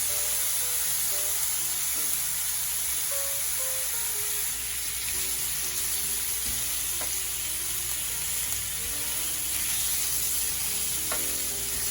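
Bacon sizzling steadily on a very hot griddle, a continuous loud crackling hiss with small pops, close by and with no one talking.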